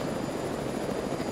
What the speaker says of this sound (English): now the helicopter's left